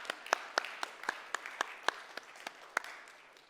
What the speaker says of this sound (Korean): 우리 정명숙 집사님 한번 박수 쳐드릴까요?